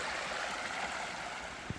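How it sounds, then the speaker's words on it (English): A canyon creek flows in a steady, fairly loud rushing wash of water heard close by, with one brief knock near the end. "Cross that creek, and you can hear it."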